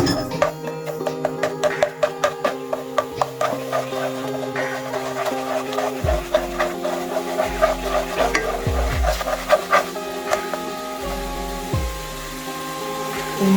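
Pineapple caramel prawn rice is stirred in a pan, with rhythmic scraping and clacking strokes over a steady sizzle, close and moderately loud, and no one speaking.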